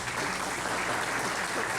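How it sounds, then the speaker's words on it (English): An audience at a community candidates night applauds steadily, a dense, even wash of clapping with no voices standing out. "Let's get a round of applause, please."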